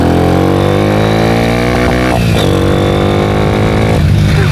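A bicycle fitted with a 125cc motorcycle engine climbs a hill, its loud, close engine drone holding steady and then rising in pitch as it accelerates, with a brief dip and a fresh surge toward the end.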